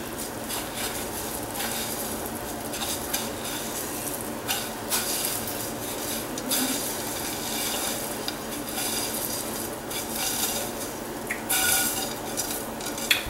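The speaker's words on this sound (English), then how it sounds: "I'll just come back with this spatula, get everything all even here." A spatula spreads and scrapes topping across a casserole in a dish, giving a steady, close stream of soft scraping, smearing and clinking strokes with no talk.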